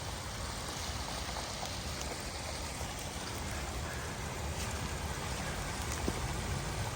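Spring water flows out of a mountainside where it emerges from underground, a steady trickling, splashing rush of moderate level with small droplet ticks throughout and no speech.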